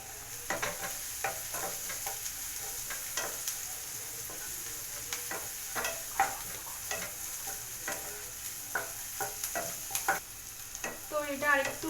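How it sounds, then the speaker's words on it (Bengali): Onions frying over a high flame in a pan for egg bhurji, with a soft, steady sizzle broken by frequent stirring scrapes and clicks of a spatula throughout, close and moderately quiet. "তো দমে একটু ভেজে নিচ্ছি, ফ্লেমটা হাই ফ্লেমেই আছে।"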